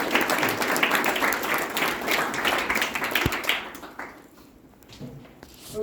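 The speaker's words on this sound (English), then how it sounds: "Let's give the Ann Hutch team another big round of applause." A crowd at a school event gives a hearty round of applause, loud, dense clapping that carries for several seconds and then tapers off to a few stray claps.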